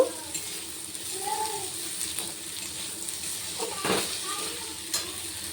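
Mixed vegetables, potato, bitter gourd, carrot and beans, frying in a pan with a steady close sizzle, broken by a few scraping stirs and clinks of a spatula.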